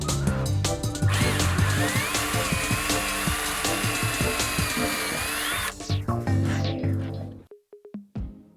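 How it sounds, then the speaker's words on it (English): A power drill bores straight through a closet panel at an existing hole, its motor whining loud and close for several seconds with a rising pitch, then slowing and stopping, followed by brief clunks and near silence. "I'm just going to take a panel that already has that hole and just drill straight through."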